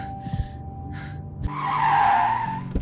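A car pulls over to the roadside with a long tire skid that swells and fades over about a second and a half, following a few brief thumps and a steady background tone.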